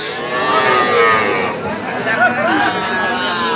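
Young bull calves at the Ambari cattle market in Parbatipur, Dinajpur, Bangladesh, lowing in drawn-out moos close by, amid a crowded murmur of people talking.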